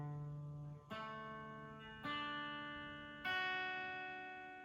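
An acoustic guitar chord picked note by note, three distinct plucks about a second apart, each ringing and overlapping the last, close and clear with no talk.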